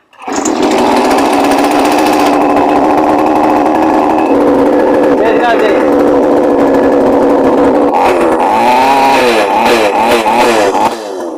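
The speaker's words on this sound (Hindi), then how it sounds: "तो ये बहुत ही बढ़िया इंजन स्टार्ट हुआ है" A petrol chainsaw engine fires up after a kick start and settles into a loud, steady running drone close by, its pitch wavering and rising in bursts as the throttle is worked near the end.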